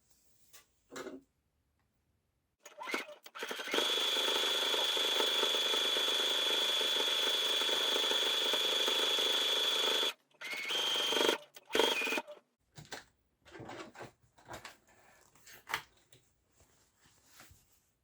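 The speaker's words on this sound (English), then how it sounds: "that's the top stitching on the brim" A sewing machine runs a steady, close continuous stitch for about six seconds while top-stitching rows around a bucket hat brim, followed by short bursts and clicks as the fabric is adjusted.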